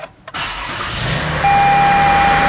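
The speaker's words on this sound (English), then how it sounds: "start the engine and run it for approximately 1 minute" A Toyota Highlander's engine cranks and catches after a short pause, then settles into a steady idle with a whining tone, loud and close, with no talking.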